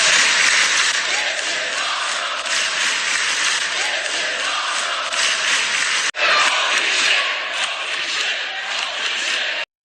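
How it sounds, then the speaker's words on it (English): Wrestling arena crowd roaring and chanting at full volume, a dense, sustained wall of voices that cuts out abruptly for an instant and then surges straight back. "They will literally chant."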